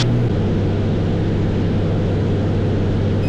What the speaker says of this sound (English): This aeroplane can go very fast, but I'm just pootling along 100 knots.